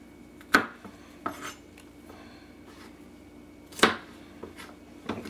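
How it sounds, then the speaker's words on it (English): Knife slicing garlic cloves into quarters on a board, a few sharp, isolated knocks and clicks spaced apart in a quiet kitchen. "take 15 cloves of garlic, slice these bad boys up like so"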